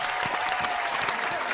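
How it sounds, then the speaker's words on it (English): A small congregation applauds during a live church radio broadcast, a brief burst of dense, steady clapping at moderate loudness. "Get them a round of applause"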